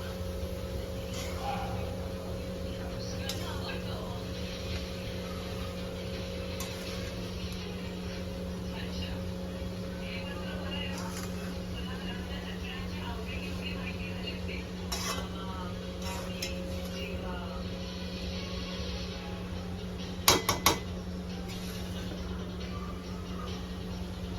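A spoon scrapes and stirs a chopped onion and jackfruit vegetable mixture in a pan under a constant background hum, with soft clinks and a quick burst of metallic knocks toward the end.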